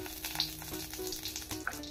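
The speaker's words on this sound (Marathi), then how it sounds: "तेल आता तापलेलं आहे, त्यात आपण दालचिनीचे तुकडे टाकूया" Cinnamon pieces and bay leaf fry in hot oil for a Punjabi-style rajma, giving a steady, close sizzle with light stirring scrapes throughout and no talking.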